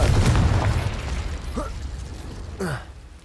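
Blasting-spell explosions in the Hogwarts Legacy video game: a loud, rumbling blast opens the clip and fades out, followed by two shorter magical pops or whooshes with rising and falling tones.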